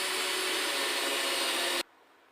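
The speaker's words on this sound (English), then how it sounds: "We're going to try to sink the head of those screws back in that seam to try to hide them a little bit." A power driver sinks screws into the seam of a log at a cabin, making a steady, loud whirring and grinding that runs continuously and then cuts off abruptly, followed by near silence.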